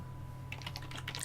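Brief burst of computer keyboard typing, a quick run of close, soft key clicks that starts partway in over a faint steady hum, with no voices.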